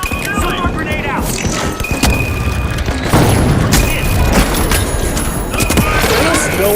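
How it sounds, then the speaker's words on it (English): A solar grenade is thrown and bursts in a fast-paced online shooter match, heard as loud booming impacts and crackling energy effects layered over busy gunfire and game sounds. "Solar grenade out!"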